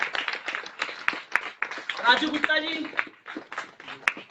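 An audience at a stage event claps in scattered bursts as people are called up, the applause running under a voice speaking over a microphone.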